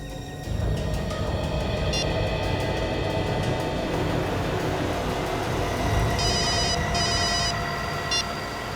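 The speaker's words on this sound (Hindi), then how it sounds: "अपने मोबाइल से उसे फोन लगाओ" A mobile phone call rings out in bursts of a repeated electronic tone, set against a steady, loud background rumble of traffic or a moving vehicle.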